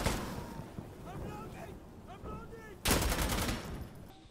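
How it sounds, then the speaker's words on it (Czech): Gunfire in Insurgency: Sandstorm crackles in bursts with a loud volley near the end, while voices talk over the action. "Tady se střílí jak svině."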